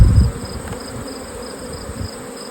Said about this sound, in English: still rearing plenty of bees